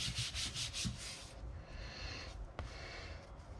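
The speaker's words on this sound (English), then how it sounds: "Rub it on the back rather than rubbing it on the front" Paper or card rubbed firmly by hand on the back of a handmade greeting card, a steady dry scuffing that is loud for the first second and then eases into a softer continuous rub, with one brief tap near the end.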